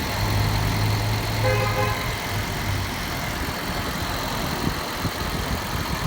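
A first-generation Toyota Prius engine idles steadily and close by, a continuous mid-low hum with the AC compressor clutch cycling, parked after sitting in the sun.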